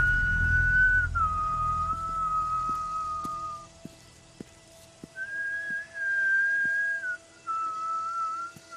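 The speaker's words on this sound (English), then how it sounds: "And does that whistling." Negan's signature whistle from The Walking Dead, a clear, melodic tune in sustained notes with brief pauses between phrases, over faint ticking in the background.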